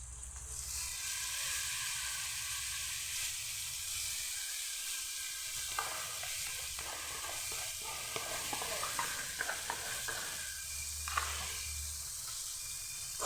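Steady, close sizzling of spice masala frying in hot oil for a home-style chicken dish, with occasional scraping stirs breaking through the continuous hiss.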